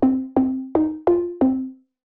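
Five short plucked notes from the Plug Impress synth plugin ring out one after another at a steady pace, each with a bright attack and quick decay, the last fading out alone.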